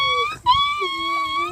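A boy mimics a puppy's whimper: a thin, high whine that dips, jumps up, then trails off lower, close to the listener.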